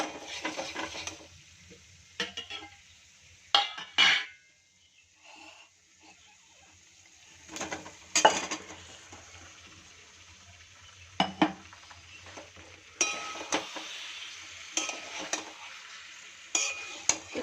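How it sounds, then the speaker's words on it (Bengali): Chicken and potatoes fry in spices in a pan, stirred in repeated bursts of scraping and sizzling with quieter pauses between, close by. "এবার আমি চিকেন আর আলু দুটোই একসাথে দিয়ে দেবো।"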